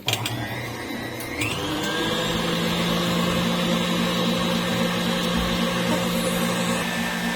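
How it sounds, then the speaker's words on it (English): An electric mixer beats butter and sugar at a higher speed, a loud steady motor whine with a constant tone. It runs up after a brief lower start and stays close and continuous throughout, with no voices. "So we're going to mix it a little bit more on a higher speed"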